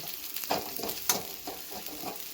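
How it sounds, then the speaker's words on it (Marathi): Green chillies and onions sizzling and frying in a pan for upma, a steady close crackle with light stirring scrapes. "आता आपण बघा, मिरची टाकली आपण याच्यामध्ये"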